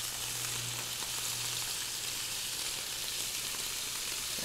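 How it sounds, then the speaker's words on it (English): Beef tips sizzling in a Teflon pan, a steady close hiss of frying that holds even and unbroken throughout, with no talk. "See, if I had heated mine up properly, it would have sounded like that. Sizzle."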